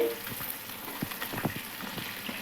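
Fish frying in hot oil in a kadai, soft continuous sizzling with scattered crackles and pops, fairly faint and close, with no talk.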